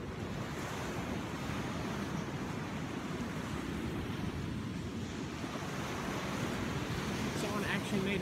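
Ocean waves on a North Carolina beach roll in as a steady, broad wash of surf with wind buffeting the microphone throughout. The sound is continuous and moderately loud, with possible faint voices in the background.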